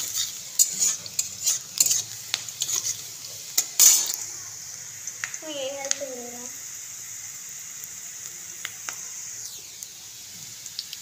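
Chopped onion fries in a pan for a potato and egg curry, with a steady soft sizzle and some early clatter of utensils against the pan. A brief voice is heard partway through.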